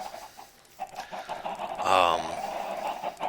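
Minecraft chickens cluck over a steady background hum, with one louder squawk near the middle; the clucking is moderately faint and continuous.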